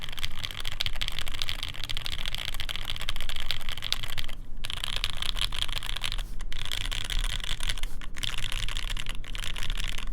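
Rapid clacky typing on a custom mechanical keyboard, dense continuous keystrokes close up with brief pauses, no talk.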